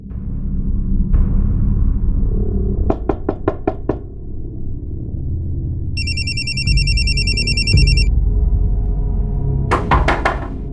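A telephone rings with a loud electronic trill over a low rumble, broken up by several bursts of sharp, rapid knocking, and no one speaks.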